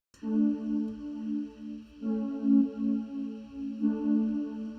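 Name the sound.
chorus synth pad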